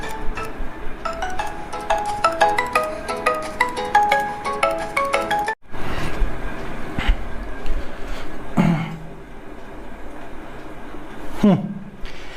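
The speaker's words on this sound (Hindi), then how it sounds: "अरे यार किसका फोन आ गया।" A phone rings with a melodic ringtone for about five seconds, a bright repeating tune, before cutting off into louder indoor sounds and voices.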